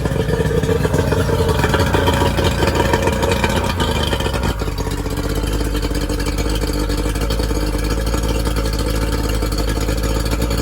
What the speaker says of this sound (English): Not a great deal of smoke. Beautiful engine, absolutely beautiful.